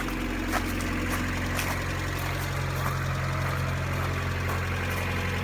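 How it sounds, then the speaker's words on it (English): A Mazda Miata engine idles steadily with a low, even rumble and slight vibration, close by, with no talking. "We've gotten it running. It runs well, it runs nice, it sounds good."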